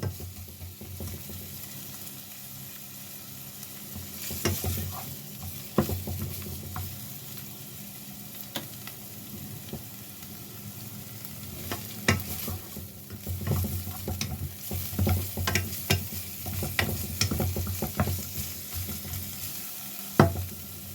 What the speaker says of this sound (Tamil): சும்மா ஒரு அரை பதத்துக்கு தான் வதக்க வேணும்.